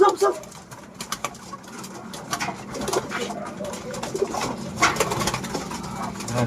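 Pigeons in a loft of young birds coo and flutter amid a busy, cluttered background, with soft calls recurring throughout and some nearby human sounds mixed in.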